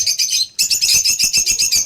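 Bright, rapid chirping and tweeting from a small bird, loud and close, running almost continuously after a brief pause near the start.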